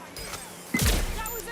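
A single gunshot in the video game Watch Dogs Legion, a sharp, fairly loud crack that lands abruptly over a steady game ambience.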